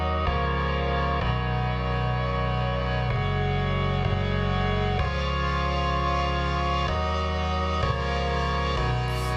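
Sustained synth chords from a music track produced in Ableton, changing every second or two in a steady progression, dense and moderately loud with a buzzy, processed tone and no voices.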